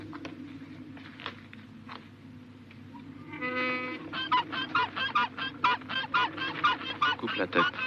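A goose honks repeatedly at close range, a rapid series of harsh, nasal calls that grows louder and more insistent in the second half, with faint shuffling and a voice in the background.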